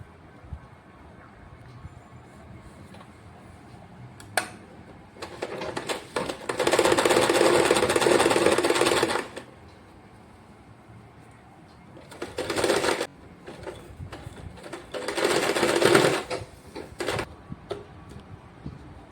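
A sewing machine stitching cloth pockets for a wall hanger runs in bursts, a fast even whirring clatter for a few seconds at a time, with quiet handling in between.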